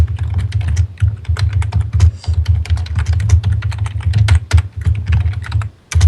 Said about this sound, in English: I want you to try typing once